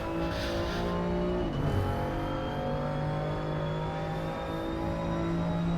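Onboard engine of an M2 Cup race car at Zandvoort, a steady loud drone with a brief dip and pitch drop around a gear change before settling back into a sustained high-revving tone.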